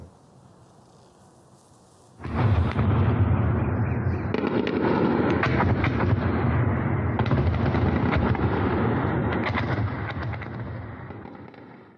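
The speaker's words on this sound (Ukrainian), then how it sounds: "цієї ночі в різних районах Києва лунали звуки вибухів" At night in Kyiv, after a quiet start, a loud, continuous barrage of rapid explosions, air defense fire and crackling blasts erupts and rumbles on for about ten seconds before fading slightly.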